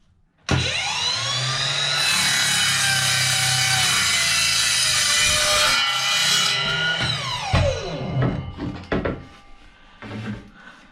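Hand saw cutting a back cut into a wooden counter top for a tiny log cabin build, a steady loud run of rasping strokes that breaks into slower, uneven strokes and scrapes toward the end, with no talk.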